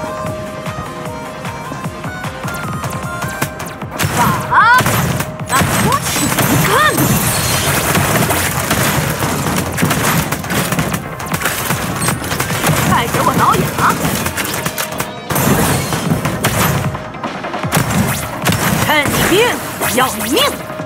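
Cannon shots and explosions boom repeatedly in the mobile naval combat game Into The Void, with heavy bangs and crashing impacts over a layered game soundtrack for about twenty seconds.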